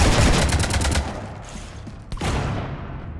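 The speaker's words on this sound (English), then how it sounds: "You want to stop shooting up my ship?" Gunfire in Mass Effect 3 crackles in rapid bursts at first, then thins out, leaving a dull mechanical hum broken by one sharp shot near the end.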